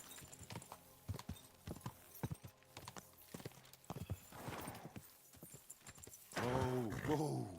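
Hooves clip-clop in an uneven, trotting rhythm in a video game, close and fairly clear, with a horse's whinny near the end and a voice talking quietly underneath.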